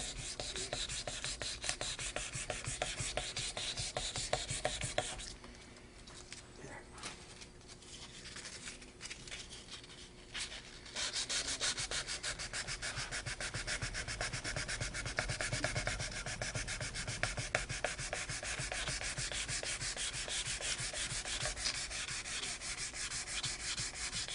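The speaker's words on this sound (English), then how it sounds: "That's the other thing too about sanding things like this" Steady, continuous rasping of sandpaper rubbed by hand back and forth over wood to fix a crack, close by, with a brief quieter pause midway before the scraping resumes.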